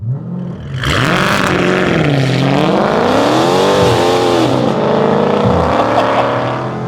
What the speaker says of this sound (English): it's now time to launch the Dodge Challenger SRT from 0 to 60